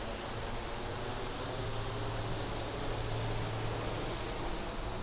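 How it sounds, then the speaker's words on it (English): A waterfall in the Japanese garden of Hotel New Otani Tokyo, dropping about six meters between two levels, gives a steady, even rush of falling water, soft and continuous with no voices. "This waterfall is designed to take advantage of the gap of about 6 meters."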